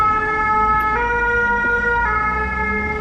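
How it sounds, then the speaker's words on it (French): An ambulance siren wails loudly and nearby in a steady repeating two-tone pattern, switching pitch twice, over a low background rumble of road traffic. "C'est l'ambulance."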